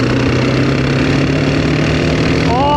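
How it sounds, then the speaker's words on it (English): Two 400cc thumpers, a Suzuki DRZ400 and a Honda XR400, roll on from about 40 km/h in fifth gear, a steady loud engine drone with wind noise throughout. "2 400cc motorcycles, both in 5th gear"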